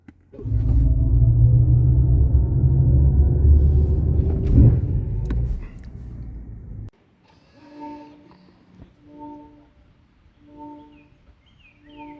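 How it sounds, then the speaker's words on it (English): A 2024 BMW i5 M60 electric car, with nearly 600 horsepower, launches with the brake held and the accelerator floored. A loud, steady low rumble of road and drive noise lasts about seven seconds, then drops away to near quiet with faint high tones. "you just press on the brake button, and at the same time, you floor the accelerator, and here's what happens."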